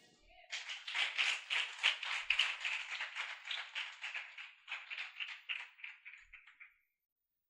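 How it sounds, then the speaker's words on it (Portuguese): A church congregation applauds with dense, sustained clapping that builds quickly, holds for several seconds, then thins out and stops. "Você pode aplaudir Jesus?"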